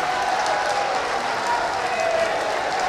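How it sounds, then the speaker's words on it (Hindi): Devotees clap in a crowded darbar hall, a dense, steady wash of applause with crowd noise that holds evenly throughout. "अगर ठीक हुए हैं तो तालियां बजा दें कस के"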